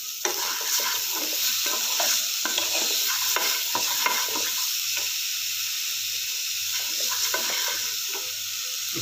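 Chopped mushroom stems stirred and frying in a pan, a continuous sizzle with repeated scraping strokes of the spoon throughout, close and steady.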